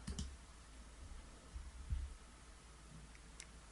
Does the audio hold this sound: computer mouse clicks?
yes